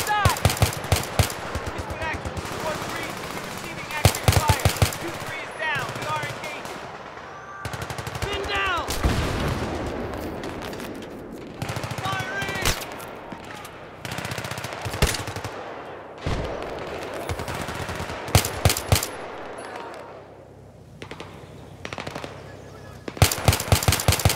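Automatic and single gunshots from the video game Battlefield 3 crackle in loud, dense bursts throughout a combat ambush, with pauses between volleys and voices shouting over the firefight.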